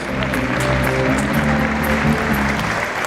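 Sustained applause from a large crowd at a sports awards gala, dense and steady, with a low hum of voices beneath the clapping.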